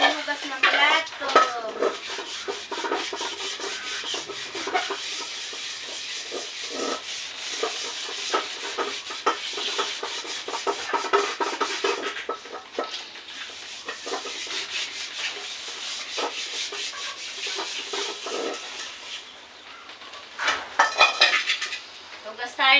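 Plates and cutlery are washed by hand, with steady rubbing and scrubbing, clinking dishes and rattling silverware close by. A voice speaks over parts of the washing.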